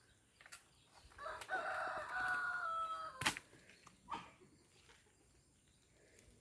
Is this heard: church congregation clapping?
no